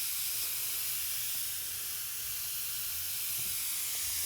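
Gas hisses steadily from a valve on a nitrous oxide transfer pump, a constant broadband rush that stays loud and even throughout, with no talking.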